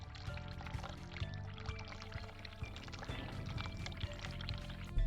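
Steady pour of hot tap water in the horror game The Cat Lady, a continuous running stream that holds evenly for several seconds beneath low background music, without speech.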